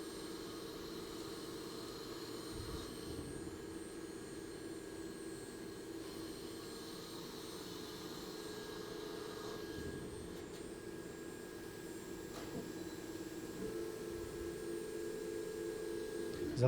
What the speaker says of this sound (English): So now we make a threading.